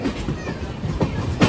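An AC express train on the Santragachi–Chennai route, standing at a platform, gives off a steady rolling rail rumble with faint clattering and a louder thump near the end, in a noisy station setting.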